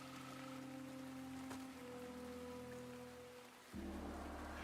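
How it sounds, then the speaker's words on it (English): Steady rain pours onto a stone courtyard in the Shadow of the Road video game, a continuous even hiss with a low ambient hum, shifting to a deeper drone near the end. "watches the rain fall onto the courtyard"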